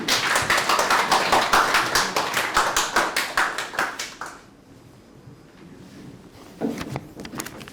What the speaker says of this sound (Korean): 다시 한번 스승께 큰 박수 부탁드리겠습니다